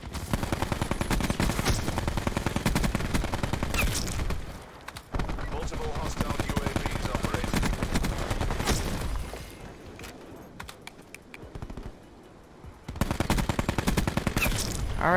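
Rapid SWAT RFT rifle fire in Black Ops 4, loud bursts of quick crackling shots with brief pauses between volleys over busy game noise.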